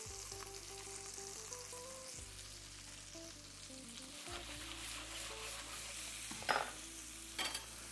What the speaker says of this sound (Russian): Стараемся, да, рыбу до спины хорошо обжарим